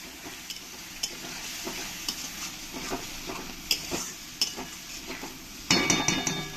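A spoon stirring turmeric and salt into a sizzling fish curry masala in a pan, with a steady frying hiss, scattered metallic clinks, and a louder scraping burst at the end.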